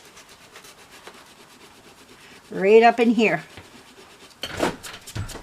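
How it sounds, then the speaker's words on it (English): Close, rhythmic scratchy rubbing of sandpaper strokes sanding paint off a doll, with a person briefly talking over it. "I'll sand and get the paint off."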